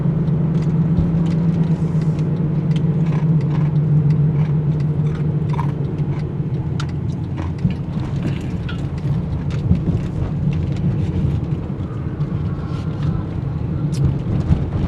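A car drives along with a steady low engine and road rumble throughout, and a patter like rain or road grit on top; someone talks now and then over the cabin noise.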